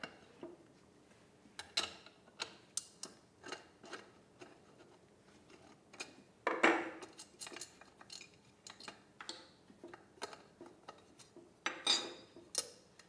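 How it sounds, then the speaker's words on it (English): A 10mm socket wrench works the muffler cover off a Husqvarna chainsaw, giving scattered metallic clicks, ratcheting ticks and small clanks at an irregular pace, close and fairly quiet, with a louder rattle partway through. "We'll use a 10mm socket to remove the cover."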